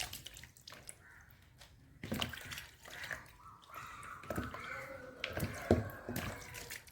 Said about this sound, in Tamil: அதே மாதிரி எல்லா மாம்பழத்தையும் கழுவிட்டு வருவோம்.